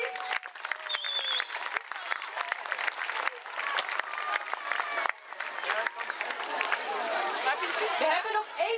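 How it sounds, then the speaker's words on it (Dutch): An audience at a school Lion King musical claps loudly and continuously, a dense wash of many hands with a few voices and cheers mixed in near the end. "Ook een groot applaus voor alstublieft"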